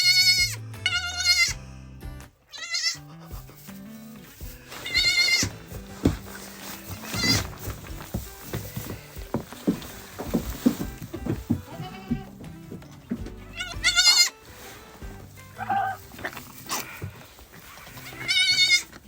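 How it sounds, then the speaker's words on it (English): Newborn baby goats bleat and cry repeatedly in a barn on a freezing night, loud and close in overlapping high calls, with someone talking between them. "suddenly I heard baby goats crying"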